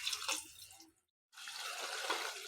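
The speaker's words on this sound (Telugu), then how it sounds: "కొద్దిగా వాటర్ పోసుకోవాలి." Water trickles into a pan of cluster bean and tomato curry, a short soft splash, a silent gap, then a longer gentle pour; quiet and close, with no talking.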